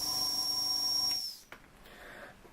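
Model steam engine whistle driven by an airbrush compressor gives a shrill, steady high tone for just over a second, then cuts off into a soft hiss and a small knock.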